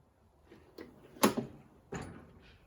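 A toolbox drawer holding 1/2 inch and impact sockets opens: a few light clicks, then a sharp metallic slide and clunk at close range, followed by a second softer rattle, all in a quiet room.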